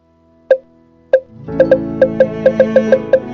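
Short tonal blips of a button hover sound effect in Adobe Animate, two spaced apart and then a quick regular run of about nine, bright and close with no talking.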